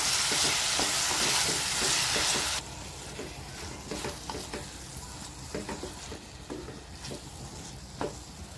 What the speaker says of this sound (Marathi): आता ह्याच्यात मी हे टॅमॅटो टाकते